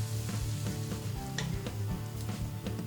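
Tomato tipped into a pan of softened onion starts a steady close sizzle, with soft rhythmic stirring scrapes cutting through the frying hiss and no talk.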